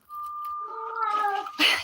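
A pet cat gives a single drawn-out, wavering meow, close and clear, ending in a short breathy burst, with no talking.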